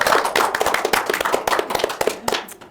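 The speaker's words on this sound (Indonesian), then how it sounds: "Jadi tepuk tangan, tepuk tangan." A small audience at a campus talk show applauds in a loud, close burst of quick, sharp claps that thin out toward the end, with no talking over them.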